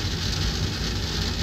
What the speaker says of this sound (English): Just some light rain.